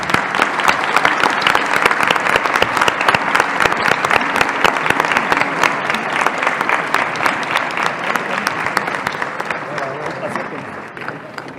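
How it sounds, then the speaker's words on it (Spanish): An audience at the 5th CAM SAM architecture congress gives architect Rafael Viñoly a long round of applause, loud crisp clapping that holds steady for over ten seconds and fades slightly at the end. "Quisiera por favor darle un aplauso al arquitecto Viñoly."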